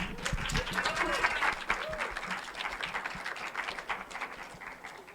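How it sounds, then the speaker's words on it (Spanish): An audience at a panel discussion on religious and cultural tourism claps warmly for a few seconds, a dense burst of applause that swells and then slowly thins, with voices faintly mixed in. "Un aplauso, por favor."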